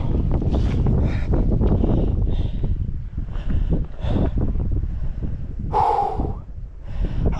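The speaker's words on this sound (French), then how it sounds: "Il y a du vent." Strong wind buffets the microphone on the way up the Pic de Bertagne, a loud, rumbling, gusting roar with uneven swells and a brief breathy sound near the end.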